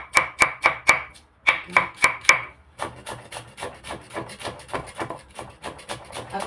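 Ginger being sliced on a cutting board: a quick run of crisp knife chops, a brief pause, a second run, then softer, faster chopping. One short spoken word is heard.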